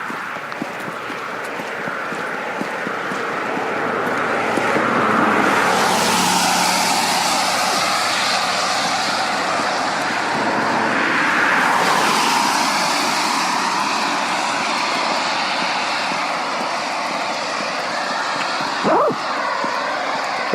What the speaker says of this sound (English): I don't like competing with the traffic